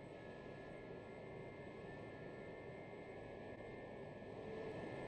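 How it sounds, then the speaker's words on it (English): A Gazelle helicopter hovers in the DCS combat flight simulator, its steady turbine whine and rotor drone forming a constant, even wash of engine noise throughout with no talk. "I set my Gazelle to hover and carefully rise to peek over the ridge to find my targets"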